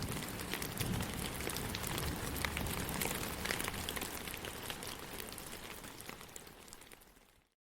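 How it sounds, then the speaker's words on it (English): Heavy rain pouring down over a battlefield: a dense, steady hiss of falling drops with a faint crackle, moderate and constant, fading out at the end. "The gray skies opened up and poured heavy, cleansing rain down onto the battlefield."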